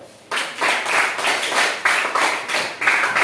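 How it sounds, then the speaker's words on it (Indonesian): Classroom of students clapping together in a teacher-led pattern, loud close bursts of many hands arriving in a repeating rhythm of roughly twice a second. "Oke, tepuk tangan."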